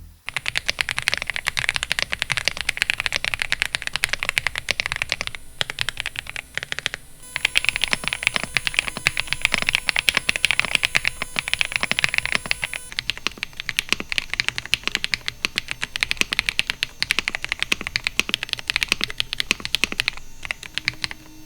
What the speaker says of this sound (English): So for the sound test, I'm pitting the Rakk Sinag Pro against 2 other keyboards, the Aula F75 and the I Love B87.